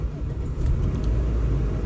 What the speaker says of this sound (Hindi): ये जी हमने गाड़ी स्टार्ट कर दी है।